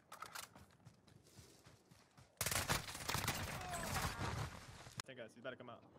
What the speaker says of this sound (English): Taking direct fire.